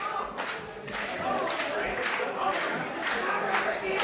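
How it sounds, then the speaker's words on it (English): Crowd at a wrestling match cheering and clapping, a dense continuous roar with scattered claps that holds steady throughout. "The crowd is solidly behind the Emperor."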